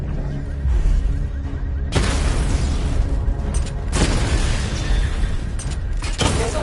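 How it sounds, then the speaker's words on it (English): Targets blowing up in Batman: Arkham Knight during a diagnostic drill, loud booming blasts with sharp onsets near two, four and six seconds over a constant dense rumble of game noise. "Destroy targets to charge up weapon energy and activate missile barrage."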